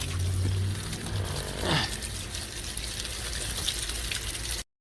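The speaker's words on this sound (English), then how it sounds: "Grab our hose, and they're just going to fall right off." A garden hose sprays a steady, close rush of water onto a car radiator to wash off caked-on bugs, running continuously before cutting off abruptly.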